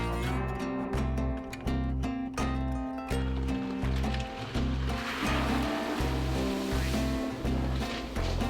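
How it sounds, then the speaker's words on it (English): A 2022 Honda Pioneer 1000 UTV plows through a stream, throwing up a steady rush of splashing water for several seconds under a layer of background music. "splashing through that stream"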